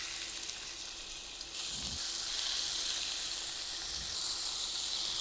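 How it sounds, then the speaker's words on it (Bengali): Fish sizzling as it fries in a pan for kebabs, a soft, steady hiss with faint crackle throughout that grows slightly stronger partway through, quiet and without talking. "এখন মাছগুলো ভেজে নেব"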